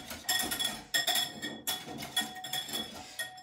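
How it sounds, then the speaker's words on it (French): Pancake batter being mixed with a utensil, a rhythmic series of clinking, scraping strokes against a bowl, close and fairly quiet, with no talking. "je remélange"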